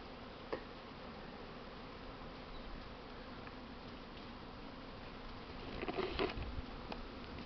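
Honey bees buzzing in a steady low hum around a hive early in the season while gathering hazel pollen, with a few soft knocks and a brief louder flurry near the end, no one talking.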